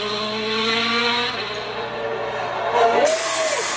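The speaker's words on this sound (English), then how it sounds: "oof, that's a clean drift." A WRC rally car drifting, its engine note rising and falling in a steady roar with a brief tire squeal near the end, heard at moderate distance.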